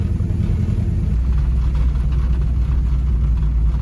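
A 1972 Camaro with a 383 stroker V8 driving for the first time in nine years, a loud, close, steady low engine rumble that holds evenly throughout.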